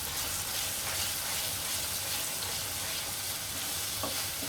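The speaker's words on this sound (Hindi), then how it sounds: "आप इसको कंटिन्यू चलाते रहिए।" Paneer do pyaza frying in a pan gives a steady, close sizzle while the mixture is stirred continuously, with soft scraping throughout.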